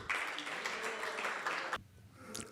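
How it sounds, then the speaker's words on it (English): An audience at a temple talk breaks into applause, a dense burst of clapping that cuts off sharply after under two seconds, followed by quieter room sound. "So please give a big round of applause and Hari Bol."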